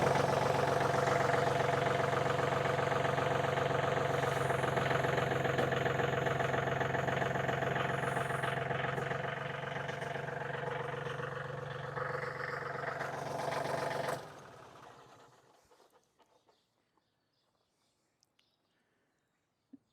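A tractor engine runs steadily at a constant drone while a front end loader lifts, loud and close, then cuts off abruptly, leaving near silence with a few faint clicks.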